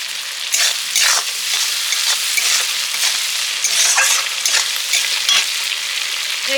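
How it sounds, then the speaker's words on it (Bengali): Onion and shrimp frying together in a pan produce a loud, close, continuous sizzle, with bursts of stirring and spatter rising and falling across the whole stretch, and no voices. "অনেকটাই পেঁয়াজ আর চিংড়ি মাছ ভাজা হয়ে গেছে"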